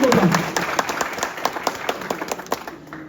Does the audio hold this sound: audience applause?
yes